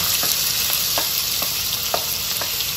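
Chopped onions frying in a hot pan, a dense steady sizzle up close with occasional soft scrapes as they are stirred, loud and continuous with no voices.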